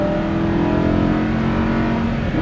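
Lamborghini Huracan LP610-4 engine under throttle on a track, a loud, steady mid-pitched drone with a held tone that climbs slightly as the car accelerates, close and continuous with no talk.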